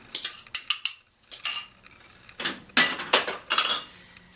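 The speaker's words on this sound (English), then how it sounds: "I'm going to toss that in there and just give that a quick little stir to combine" Sriracha party nuts with rosemary are stirred in a bowl with a rubber spatula, giving a series of close, irregular clinks and scraping rattles separated by short pauses.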